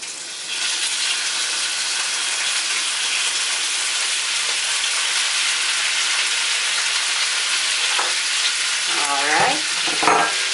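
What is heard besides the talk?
chopped beef stew meat frying in oil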